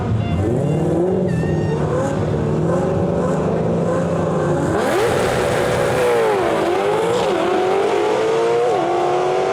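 Two Fox body Mustang drag cars at an elimination race, engines droning loud and close before a sharp jump in pitch as they launch, then screaming revs that rise and dip through the gear changes with no break.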